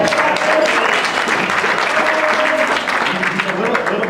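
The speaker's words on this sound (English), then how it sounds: "And round of applause for Ed." A seated audience breaks into loud, sustained applause close by, with many hands clapping together in a dense wash and faint crowd murmur underneath.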